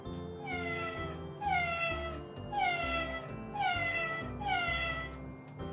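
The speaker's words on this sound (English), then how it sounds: "Cat. Which cat?" A recorded cat meows from a children's noisy pets sound book, four clear, drawn-out meows repeating at a steady pace over a faint background tone.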